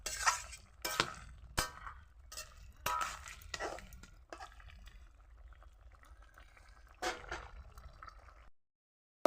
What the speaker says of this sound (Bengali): তো দিয়ে দিলাম চিংড়ি মাছটা, একটুখানি নেড়ে ছেড়ে দেবো।